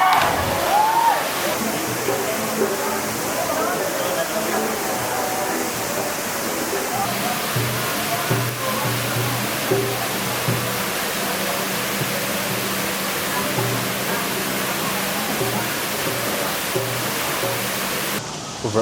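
Steady rushing roar of a waterfall on a hike near Davao City, a broad continuous wash of falling water that fills the whole stretch, with faint voices underneath.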